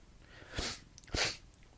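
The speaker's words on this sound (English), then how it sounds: "Sorry for the sniffles." Two short, faint sniffles from a runny nose after eating spicy noodles, spaced about half a second apart, heard close up with nothing else around them.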